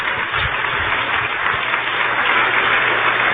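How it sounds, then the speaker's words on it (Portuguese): A church congregation applauding Jesus during a service, continuous dense clapping that stays loud and even throughout, with a low hum underneath. "Vamos aplaudir o Senhor Jesus."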